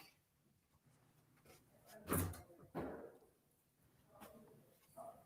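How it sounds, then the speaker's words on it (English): A door opening at a basketball podcast recording as the St. Joe's Prep head coach walks in, heard as a clear knock-like clunk followed by a second bump, fairly near, over quiet room tone. "Got the door open there."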